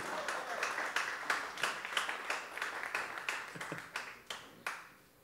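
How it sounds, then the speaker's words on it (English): Scattered audience applause at a cabaret show, individual claps clearly separated with uneven rhythm, fairly faint and sparse as a smaller crowd claps in a room. "Give him a nice round of applause."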